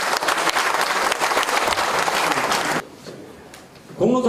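Audience applauding at a Korean livestock cooperative headquarters completion ceremony, a dense burst of many hands clapping that stops abruptly, followed by a quiet pause before a voice begins.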